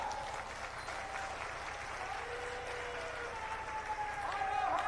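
A crowd applauds the chief minister at the opening of the Shravani fair in Tarakeswar, steady dense clapping that holds for the whole stretch and swells slightly toward the end, with faint voices mixed in.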